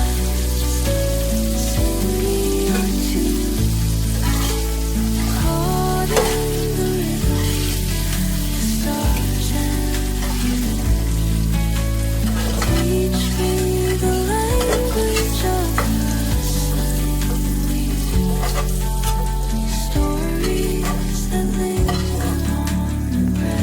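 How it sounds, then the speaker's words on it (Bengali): Steady, dense sizzling of paneer frying in hot oil, loud and continuous, with occasional scraping and stirring clatter. "পিঠটা একটু ভাজা হয় মতো ঘুরিয়ে ঘুরিয়ে দিচ্ছি পিঠগুলোকে"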